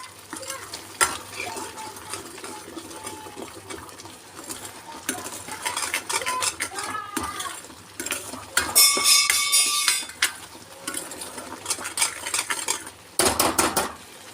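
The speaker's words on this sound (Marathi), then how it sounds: "याला आपण 5 मिनिटं तेल सुटेपर्यंत भाजून घेऊया." Masala roasts in oil in a pan for chole, with soft sizzling under repeated metal spoon scrapes and clinks of stirring, plus a few louder clanks.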